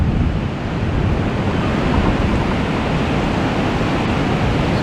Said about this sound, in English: the wind is coming in from the sea